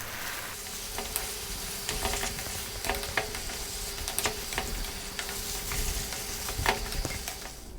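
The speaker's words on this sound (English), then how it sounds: "I'll be working the sauce into the pasta." Spaghetti sizzles in a hot pan as sausage sauce is stirred through it, a steady fry with repeated scraping and clacking of the utensil, close and alone without talk.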